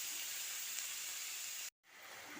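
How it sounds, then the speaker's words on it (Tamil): Cabbage, carrot and onion sautéing in a pan, a steady close sizzling hiss that runs on evenly, cuts out briefly near the end, then resumes. "அதில் வந்து முட்டைக்கோசு கேரட்டு வெங்காயம் இதெல்லாம் போட்டு நல்லா வதக்கிடுங்க நல்லா வேகட்டும்"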